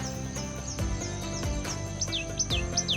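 Birdsong in a Chhattisgarh setting: repeated short chirps and descending whistled calls, fairly steady over a low rumbling background, several calls close together toward the end.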